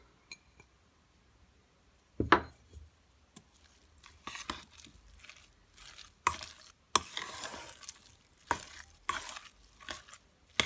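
A spoon scrapes and clacks in a bowl while stirring fried mushrooms together with grated cheese, in irregular close bursts with quiet gaps between.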